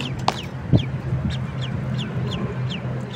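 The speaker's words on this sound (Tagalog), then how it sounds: "Ang ating bagong bibe." Repeated short chirpy peeps from a duckling, several in a loose rhythm, close by, over a low steady hum with a couple of soft knocks.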